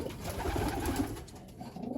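Pigeons in a loft cooing steadily, soft low throaty calls close by and overlapping, with no talk.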